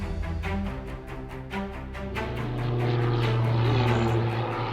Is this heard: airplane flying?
yes